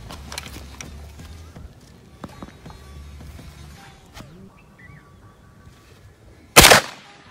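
A handgun fired at targets from about 15 yards, with one loud, sharp shot standing out near the end above quiet outdoor background and faint earlier clicks.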